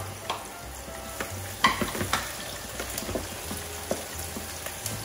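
Garlic hits a hot pan for chicken kaldereta and sizzles, a close, steady frying hiss with scattered crackles and pops and a few stronger spits early on, no one speaking.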